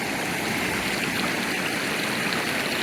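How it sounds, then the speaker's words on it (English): A waterfall along a hiking trail near Eagle Nest Lake in New Mexico pours with a steady, full rushing hiss, heard close and continuous with no voices. "we came to a beautiful waterfall"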